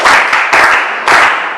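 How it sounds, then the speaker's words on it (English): Loud, close clapping after a student's reading of the poem "You Are Lost", arriving in a few quick bursts of hand claps over a brief moment. "Sit down and clap hands for him."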